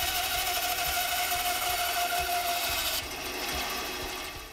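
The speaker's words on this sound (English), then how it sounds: "Now we'll head over to the bandsaw where I can make the rough cuts to get our individual pieces." A bandsaw cuts pine wood into rough pieces, a continuous loud whirring buzz with a faint rhythmic ticking that eases slightly in tone partway through.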